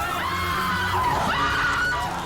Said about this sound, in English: she is in the back, screaming like somebody is killing her